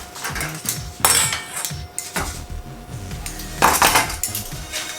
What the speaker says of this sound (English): We're just going to stir this up so it mixes all those together